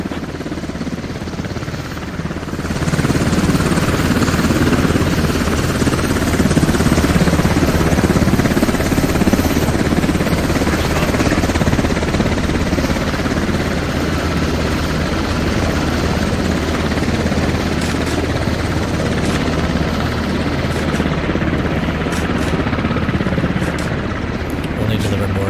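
Enemy transport helicopter in a military video game, a loud, steady rotor drone that holds for most of the stretch, with people talking over it.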